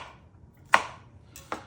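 Jalapeno and hot banana peppers are rough chopped with a knife on a cutting board, giving two distinct, sharp knocks spaced under a second apart with quiet between them.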